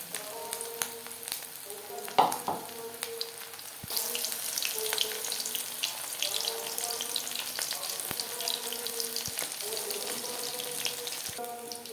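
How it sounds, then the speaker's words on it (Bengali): Prawn pakoras fry in hot refined oil with a steady, close hiss that swells when the batter goes in and carries on alone with light crackles and faint scraping. "বেশ খানিকটা রিফাইন্ড অয়েল গরম করে নিয়েছি এবার দিয়ে দেবো পাকোড়া"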